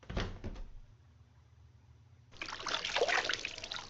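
Water running from a bathroom tap in the Nancy Drew video game The White Wolf of Icicle Creek, a short splash at first, then a steady stream starting partway through and continuing to the end.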